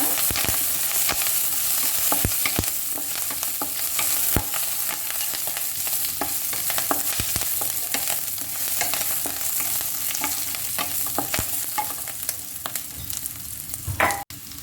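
Curry leaves sauté in a frying pan for a black sesame dish, giving a steady loud sizzle throughout with frequent sharp crackles and pops, and a stronger burst near the end.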